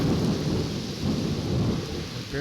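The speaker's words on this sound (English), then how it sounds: "That's another one, within 100 feet at least. Almost instant thunder." Thunder from a severe thunderstorm over New York Harbor, a close strike rumbling loud and continuous with steady rain noise throughout, no voices.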